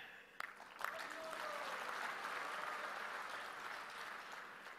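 Audience applause at a celebration honouring Bhaktisiddhanta Saraswati, a steady wash of many hands clapping that builds after a couple of sharp claps and holds throughout.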